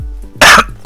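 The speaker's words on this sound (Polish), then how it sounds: "jebana kaszel" Two sharp, loud coughs heard up close, the first around the middle of the moment and the second right at its end, with brief quiet and low hum between them.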